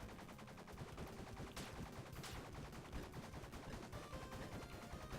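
Turrets in a video game spraying rapid gunfire, a dense, fast stream of shots that runs unbroken and fairly quiet for several seconds.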